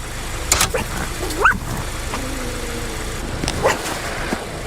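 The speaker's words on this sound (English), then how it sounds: "Are you barking at the tool bag, Nick?" A pet dog named Nick lets out a few short, sharp barks at a tool bag indoors, spaced across a few seconds over a steady background hum, with a brief low drawn-out sound in the middle.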